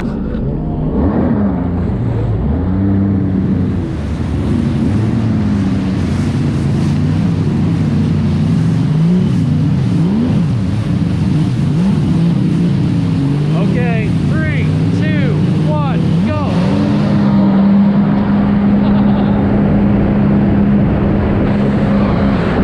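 Jet skis race across the water, including a 3-cylinder Waveraider and a Waveblaster, their loud two-stroke engines droning and revving nonstop close by, with pitch rising and falling as they accelerate.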